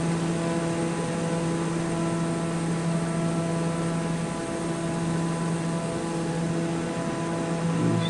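Aircraft engine in the game Microsoft Flight Simulator 2024 on PS5, a constant steady drone with a fixed tonal hum that carries on unbroken, with no talking over it.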